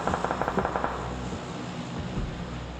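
Rapid automatic gunfire rattles in a shooter video game, a quick burst of evenly spaced shots in the first second, then a dull background of game noise.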